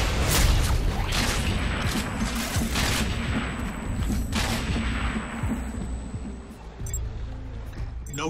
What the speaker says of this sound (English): I'm shooting snipers.